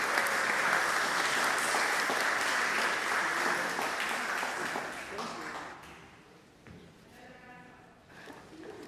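An audience gives loud, sustained applause for the actors after a stage performance; the clapping fades out partway through, leaving quieter room sound and a voice.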